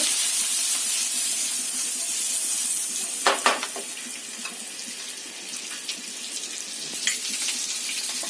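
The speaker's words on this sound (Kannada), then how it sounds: "ಇದು ಮೊಟ್ಟೆ ಸ್ವಲ್ಪ ಹಿಂಗೆ ಫ್ರೈ ಮಾಡ್ಕೊರಿ" An egg fries in a pan with turmeric and red chili powder, giving a steady, close sizzle. A few sharper clatters and scrapes of stirring break through the hiss, with no talking.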